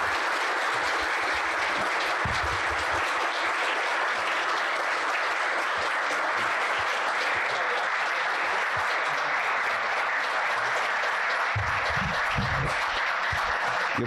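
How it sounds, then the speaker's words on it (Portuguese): A full hall of people gives a sustained round of applause at a lecture event, loud steady clapping with no talk over it and a few low thumps. "Receba a nossa salva de palmas"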